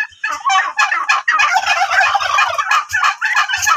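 A large turkey cock, over 5 kg, gobbles loudly and close by in a rapid, rattling burst that continues almost without pause, with no talking.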